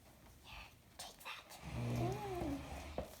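A voice imitates a cat's meow for a LEGO Friends toy kitty, rising and falling in a soft, close mew near the end, with quiet handling noises and speech-like sounds before it.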